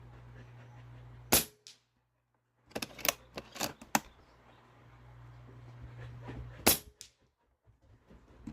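A .22 caliber Snowpeak T-Rex bullpup PCP air rifle fires at a steel dueling tree 50 yards away: sharp cracks followed by quick metallic clinks of the plates, a cluster of impacts in the middle, with quiet hum between.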